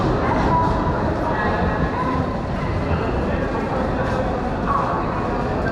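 Busy ambience of Howrah railway station with trains, a steady, loud rumbling wash of noise throughout and indistinct voices mixed in.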